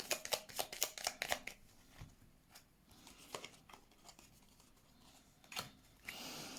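Tarot cards being handled and laid out, with rapid papery riffles and flicks at first, then scattered soft slaps and slides of cards on a surface, close and quiet.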